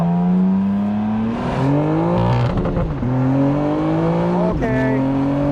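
A BMW M4 Competition convertible engine revs hard as the car downshifts and accelerates, pitch climbing in loud sweeping pulls with gear changes, close and continuous.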